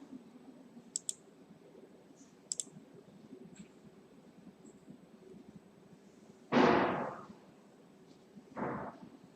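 Two quick pairs of faint, sharp mouse clicks at a computer, double-click style, over a quiet background hum, followed later by two louder bursts of noise.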